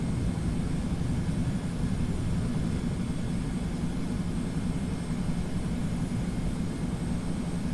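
Twin jet engines of a TFDI 717 airliner in the Prepar3D flight simulator roar at takeoff power on a climb-out in Hawaii, a loud, steady low rumble that holds without a break.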